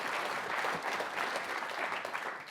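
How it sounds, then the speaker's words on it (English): An audience at the MIT RealityHack 2020 closing ceremony claps in a dense, steady round of applause that holds at full strength throughout before easing slightly at the end. "So give him a good round of applause."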